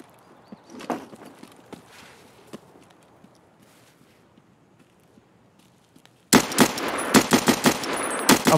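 Automatic gunfire in Escape From Tarkov: after quiet shuffling footsteps and faint clicks, a loud, close, rapid burst of automatic rifle fire erupts and continues in quick staccato shots.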